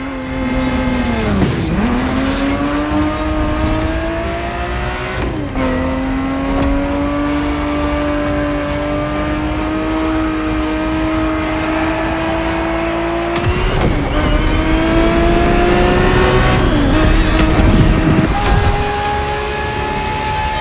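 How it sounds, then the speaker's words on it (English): Ferrari 365 GTB4 from the 1970s racing in The Crew Motorfest, its engine note loud and continuous, climbing and dropping through gear shifts with brief dips and tire squeal, no talk. "The Ferrari 365 GTB4 is the perfect vehicle for you to experience Ferrari racing as it felt back in the 70s"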